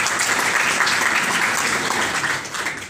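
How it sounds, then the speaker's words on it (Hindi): A school audience applauds to welcome a school principal at a cleanliness, plastic-free and water conservation event, a dense burst of clapping that holds steady and fades slightly at the end. "उस प्रधानाचार्य के लिए वंदन अभिनंदन के लिए तालियां बजा करके उनका स्वागत करेंगे"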